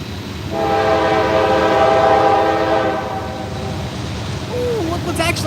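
A freight train with a BNSF locomotive in the consist passes at Lilly, Pennsylvania, its horn sounding loud and sustained for a few seconds over a rumbling rail background, with a voice speaking nearby.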